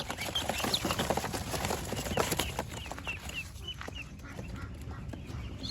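Young laying ducklings, seven days old, peep and quack in a busy chirping chorus just after eye-drop vaccination, with rustling and scuffling close by and no talk.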